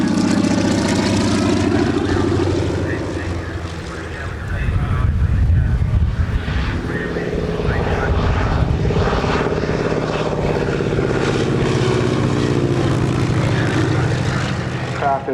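A former Royal Canadian Air Force propeller aircraft in camouflage drones loudly through an airshow display at Tyabb, its engine note swelling and holding steady while a commentator talks over it.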